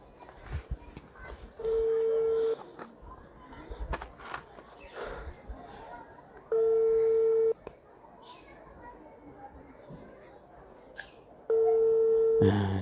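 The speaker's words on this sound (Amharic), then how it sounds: "አበባ ወደ ተባለችው ግለሰብ እንደውላታለን" A phone call being placed: three identical ringback tones, each roughly a second long, spaced evenly apart, close and clear over faint room noise and shuffling movement.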